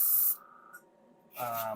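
An airbrush sprays Vallejo primer in a short hiss that stops after a moment, followed by near silence and then a second longer burst of spray.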